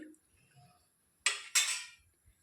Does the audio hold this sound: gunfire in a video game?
no